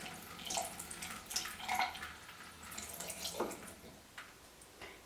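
A paintbrush is dipped and swished in a cup of water, making faint, close, intermittent splashes and drips in a quiet room.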